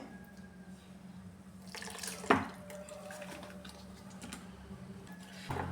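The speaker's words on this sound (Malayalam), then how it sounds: "ഇനി ഈ പാല് ഇതിലേക്ക് ഒഴിച്ചു" Milk is poured into a pan for aval milk with a soft, steady liquid pour, briefly louder at one moment, close by and quiet.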